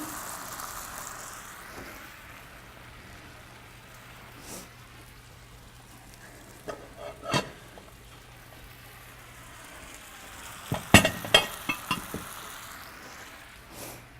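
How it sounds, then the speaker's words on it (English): Boiled dumplings frying in a hot pan give a steady, soft sizzle with crackling, which rises into a burst of sharper spits and pops as the dumplings hit the oil, with no talking. "I'm going to drop a couple boiled dumplings in."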